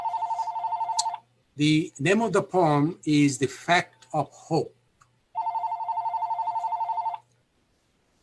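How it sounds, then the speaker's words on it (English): A telephone bell rings in steady trilling bursts, stops while a person speaks, then rings again for about two seconds and goes quiet. "whose phone is ringing?"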